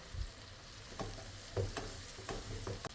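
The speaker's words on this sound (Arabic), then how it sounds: "ونستمر في التحريك لغاية ما تتحمر معنا البطاطس كويس" Potatoes sautéed in butter with onion, coloured peppers and mashed garlic fry in a pan, a soft steady sizzle broken by several light spatula scrapes and taps, close but quiet.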